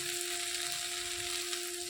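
Local leafy greens fry in a pan on a home kitchen stove, giving a steady, even sizzle with a constant hum beneath it and no talk.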